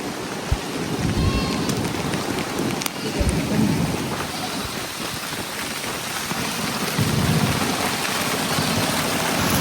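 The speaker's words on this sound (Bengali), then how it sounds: "কি বৃষ্টি নামছে একদম সাদা হয়ে গেছে সব কিছু বৃষ্টিতে" Heavy rain pours down steadily in a dense, continuous hiss, with low rumbles of thunder rolling underneath at intervals.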